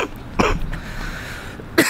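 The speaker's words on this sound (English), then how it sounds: "I still got a cough a little bit." A couple of sharp coughs, separated by a short pause, close to the listener against a faint background hiss.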